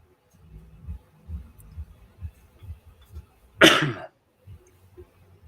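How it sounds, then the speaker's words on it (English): A single loud, harsh cough bursts out after several seconds of low, soft murmuring sounds, then quiet returns. "Excuse me for the coughing."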